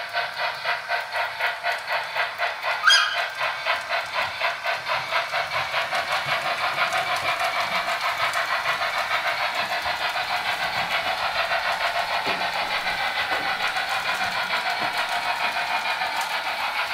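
241P steam locomotive running along a railway track near a depot: rhythmic chuffing and clatter merging into a continuous hiss and rumble, with a short whistle-like squeal early on and no voices.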